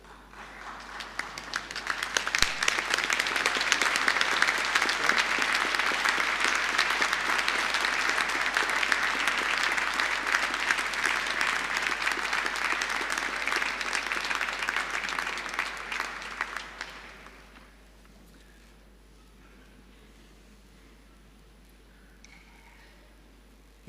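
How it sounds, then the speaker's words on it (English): A large audience at a university winter graduation ceremony applauds graduates' supporters, a broad, sustained wash of many hands clapping for about fifteen seconds before fading to quiet hall ambience. "give some applause to your supporters"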